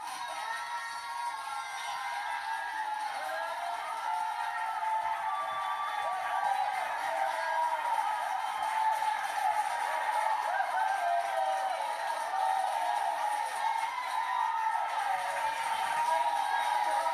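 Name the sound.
crowd cheering and applauding, played for a meditation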